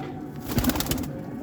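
Teddy pigeons cooing close by in a fancier's loft, a cluster of soft rolling coos swelling in the middle of the stretch over a low background hum, with no talking.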